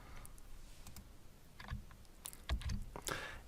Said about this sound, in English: I'm going to do that by typing initialize disk